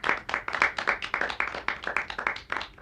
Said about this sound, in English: we'll get a golf clap